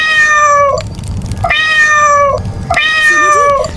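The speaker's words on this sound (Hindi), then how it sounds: "बिल्ली वहां आ गई और अपने बच्चे को आपत्ति में देखकर जोर जोर से म्याऊं म्याऊं करने" A mother cat in a cartoon story meows loudly and insistently, three long, drawn-out, close calls in a row, each separated by a short pause, with no talking.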